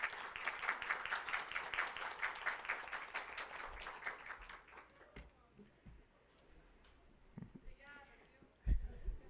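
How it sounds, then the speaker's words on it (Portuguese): Audience applause at a judicial schools conference panel, a dense burst of clapping for the first half that fades out, followed by quieter room sounds and a brief thump. "solicito uma salva de palmas a Pietra Silvestre"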